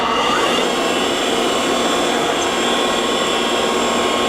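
The grinding spindle of a Heald 174 ID grinder runs with a loud, steady, unbroken whine and rush of machine noise, close by and without talk.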